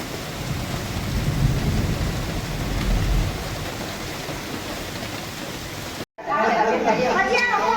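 Heavy rain pours steadily during a monsoon storm, with a deep rumble of thunder rolling underneath. The downpour cuts out sharply for a moment and then returns, now mixed with crowd chatter and voices.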